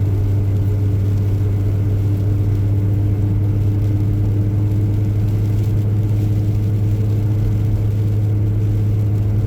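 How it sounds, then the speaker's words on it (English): A car engine labours uphill on the original Watkins Glen road circuit, a steady, loud low drone with a constant hum that holds throughout without pauses or voices. "I don't know if you can tell through the way the engine's pulling"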